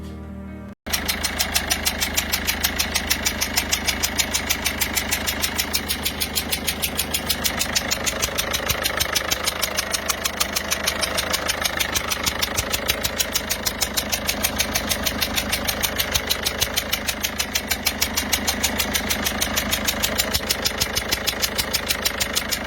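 The engine of a car brought in by tow truck idles steadily and close after a brief start at the beginning. A rapid, regular ticking or knocking pulse runs through it, loud and alone without talk.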